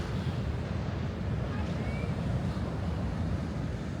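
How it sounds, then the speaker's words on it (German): Ocean waves and gusting wind on the coast near Cape Town, South Africa, a steady broadband roar with buffeting wind on the microphone, loud and continuous throughout. "Oh, hier, ganz schön Wellen."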